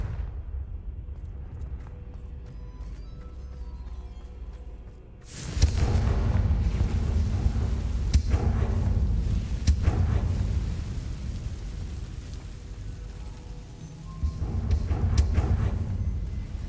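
Confringo fire spells cast in Hogwarts Legacy: a low rumble gives way to a sudden heavy explosive boom, then further loud blasts and thuds follow with a sustained rumbling roar in between.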